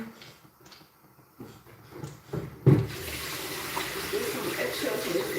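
Water from a kitchen tap rushes into a sink while eggshells are washed and fished out, starting with faint handling clatter and then swelling into a steady, close, continuous splash.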